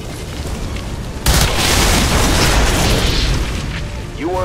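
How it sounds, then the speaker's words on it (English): Tanks exploding in XCOM 2: a sudden heavy boom erupts after a quiet moment and rolls on as a loud, sustained rumbling blast that slowly fades. "You weren't kidding when you said those tanks could explode."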